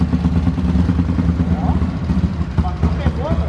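Honda CG 150 motorcycle bored out to 221cc being kick-started, its engine catching and running steadily with a low, continuous rumble close by, while people talk over it.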